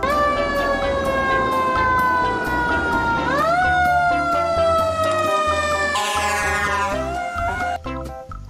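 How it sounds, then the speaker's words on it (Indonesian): A siren wails loudly in repeated rising and falling sweeps, bright and electronic like a toy fire truck, with no speech over it. "lihat teman-teman, di sini ada mobil pemadam kebakaran"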